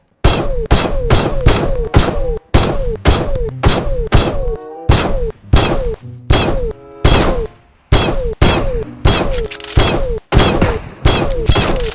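Gunfire from a recoiling gun in PUBG Mobile: loud, punchy shots fired in rapid bursts of three to five, separated by short pauses, close and dominant throughout.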